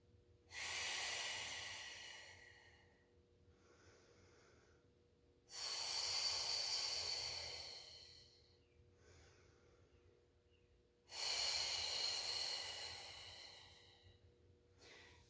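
Slow, controlled breaths drawn during a pilates mat class in a garage gym, three long, loud airy exhales spaced about five seconds apart, each followed by a softer inhale, close and alone with no talk.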